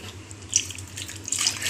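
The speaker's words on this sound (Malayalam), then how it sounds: "അരച്ചിങ്ങനെ നമ്മൾ മിക്സി കഴുകും." Tap water runs steadily into a sink while a mixer grinder jar is washed after grinding, with small splashes and clinks rising near the end.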